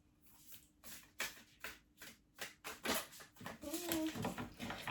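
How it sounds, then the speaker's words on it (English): Large oracle cards being shuffled by hand, a series of soft, papery riffles and slaps in an uneven rhythm, fairly quiet and close. "These cards are really hard to shuffle. They're really big."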